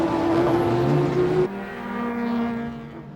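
Porsche race cars in the GT300 class of the 1997 JGTC season fighting for the lead, engines droning loud and steady with a sharp shift in pitch midway as a car passes, no talk.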